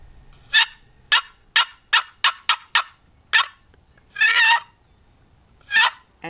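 Wooden turkey box call worked with a popping, dragging stroke, giving sharp raspy yelps in a quick series of about nine notes, then a longer rolling yelp and another single yelp, loud and close with no talking.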